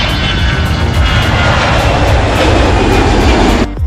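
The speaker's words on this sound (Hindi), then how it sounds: "पहली बार जब तेजस का इंजन 84 किलो न्यूटन थ्रस्ट के साथ दौड़ता है" The engine of a Tejas fighter jet runs with a loud, dense, continuous roar and whine at close range, steady throughout before cutting off abruptly at the end, with no voices.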